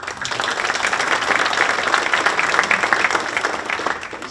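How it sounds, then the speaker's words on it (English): Steady applause from a crowd at an alumni awards luncheon, a full, even patter of many hands clapping throughout, moderately loud with no talk. "Round of applause for"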